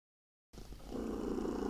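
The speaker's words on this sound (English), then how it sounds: "the cats decide now's the time to sit on your lap and purr really, really loudly" After a moment of silence, a cat purrs loudly and steadily at close range, with a continuous low rumble.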